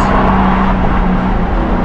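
A BMW M car engine roars steadily and loudly up close under throttle in second gear, a continuous revving drone with no pauses throughout.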